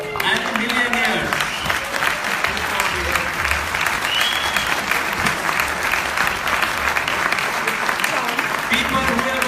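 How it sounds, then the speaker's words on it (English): Applause from a conference audience at a Lisbon event, dense continuous clapping filling the hall at a loud, even level throughout. "we can have a round of applause, please."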